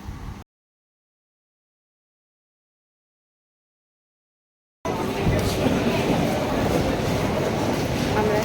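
A passenger train runs on the line toward Sealdah station, a steady loud rumble with rail noise that fills the last few seconds after a stretch of silence.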